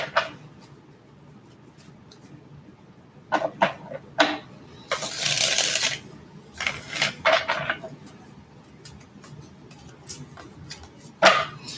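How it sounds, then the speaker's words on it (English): Soft papery riffling and flicking of tarot cards in irregular bursts, close and fairly quiet, with one louder rush of shuffling in the middle. "Let's get a good shuffle here."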